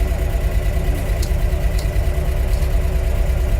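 A 1990 LuAZ 969M engine idles steadily close by, a continuous low rumble with mid-range mechanical vibration and no clear talk over it.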